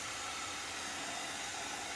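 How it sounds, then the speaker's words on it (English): A heat tool blows a steady, breathy hiss of hot air to dry a reusable chalk stencil, continuous and unchanging for the whole two seconds with no talk. "I'm going to heat it just a little bit just to dry it some."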